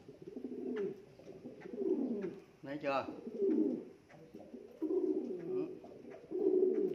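Pigeons fighting, with deep repeated cooing in a steady rolling rhythm close by and a sharp squeal in the middle, while a person talks over them.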